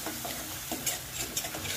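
Spices, red chilli and coriander powder, are stirred into cooked tomatoes in a pan for pea curry, with soft scraping strokes and light sizzling at moderate level, no talk.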